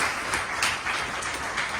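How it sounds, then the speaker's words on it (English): Appreciative applause from a ceilidh audience for two musicians, a steady wash of many hands clapping at moderate distance, even and sustained with no voices over it. "Let's give another appreciative round of applause for Rachel and Darren."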